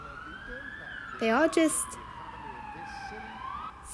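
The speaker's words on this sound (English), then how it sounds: "All the wailing sirens" A siren wails steadily in the distance, its rising and falling tone running throughout while a voice briefly speaks over it.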